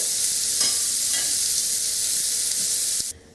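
Steak sears in a hot pan, a strong, steady sizzle with a couple of soft shifts partway through, before it cuts off abruptly near the end.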